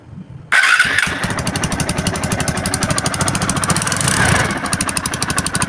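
A TVS Apache RTR 2V motorcycle fitted with a big bore cylinder block that is not yet properly seated starts up, then settles into a loud, close, uneven idle with a rapid thumping rhythm.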